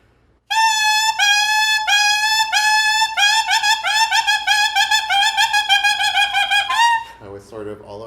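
Saxophone mouthpiece played alone with repeated tongued notes whose pitch wavers and slides, a steady series of short articulated tones before a wobbling tail, close and fairly loud.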